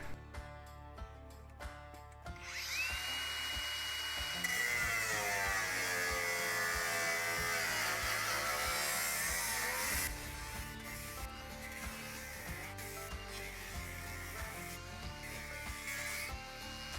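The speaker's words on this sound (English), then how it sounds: "I'm gonna use the cutoff wheel just to keep it clean" A cutoff wheel grinds through metal on a truck, a loud, steady high-pitched whine and hiss that holds for several seconds, then drops to a lower rasp as the cut finishes, close and with no talk over it.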